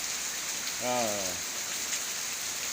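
Steady hiss of rain falling on a surface, with a brief tonal, voice-like sound rising and fading near the start.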